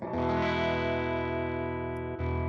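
Electric guitar played through a Universal Audio UAFX amplifier pedal with vibrato switched off, a loud sustained distorted chord ringing alone, briefly cut and restruck near the end.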